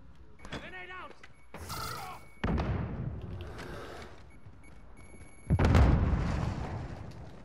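A grenade goes off in Call of Duty: Modern Warfare, with two heavy booming bursts, the second louder and rumbling longer, mixed with game effects and faint voices between them.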